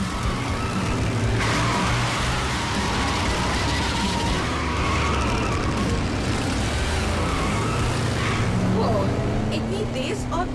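A fast car speeds along in a Hindi-dubbed Transformers cartoon, its engine roaring continuously with a tire skid and whooshing effects layered in, and speech mixed over the noise.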